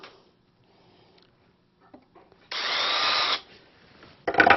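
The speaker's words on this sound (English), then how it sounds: "We're going to pre-drill" A short burst of power drill whirring, about a second long, pre-drilling holes for stair treads, after quiet shuffling and small knocks, followed by another brief spin-up at the end.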